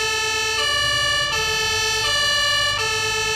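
A wailing emergency vehicle siren in Farming Simulator 22 sounds loud and steady, its tone stepping between two pitches roughly every three-quarters of a second, with a low engine rumble underneath and nobody speaking.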